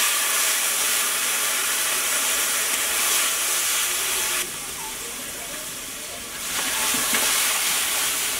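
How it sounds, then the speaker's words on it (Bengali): Dal hits a hot frying pan with garlic and onion, giving a loud, steady hiss and sizzle that swells sharply for a couple of seconds midway and then settles back to a continuous fry. "ডাল দিয়ে দিচ্ছি"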